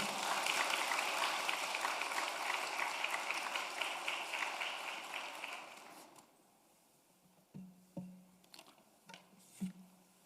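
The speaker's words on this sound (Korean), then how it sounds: "박수로 환영해 주실래요?" A church congregation gives a sustained round of applause to welcome a preacher, a dense, loud clapping that runs about six seconds before dying out, followed by a few faint knocks and footsteps.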